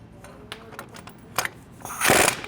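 Ratchet with a 17 mm socket on an extension backs out the axle bolts during a lift kit install on a 2020+ GM 2500 pickup: several short bursts of clicking, then a longer, louder run of rapid ratcheting near the end.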